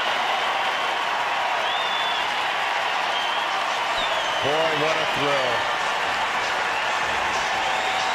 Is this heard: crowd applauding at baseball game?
yes